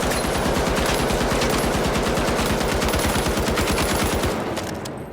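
Rapid automatic gunfire from a weapon in THE FINALS video game, a loud, continuous burst of evenly spaced shots that rattles on for about four seconds before cutting off.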